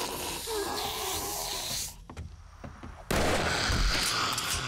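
Gunfire in the 7 Days to Die video game inside a tower under construction, dense loud bursts that cut off to a quieter gap with a few isolated cracks, then resume at full intensity.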